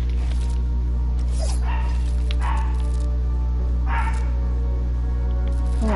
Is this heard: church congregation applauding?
no